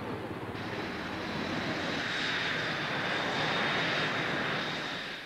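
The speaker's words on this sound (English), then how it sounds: "first Hornet flight begins" A Hornet jet aircraft in flight gives a loud, steady roaring engine drone with a high whine, sustained throughout and heard from close by without voices.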